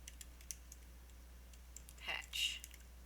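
Typing on a computer keyboard while entering lettering into embroidery digitizing software: a short burst of light keystroke clicks, faint and close, with scattered soft taps before it.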